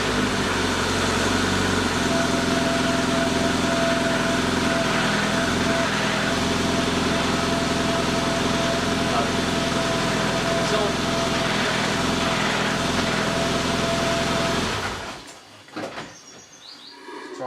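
A Lotus Elise engine runs loud and close, a steady high-revving drone that holds for about fifteen seconds before cutting out, leaving faint background noise.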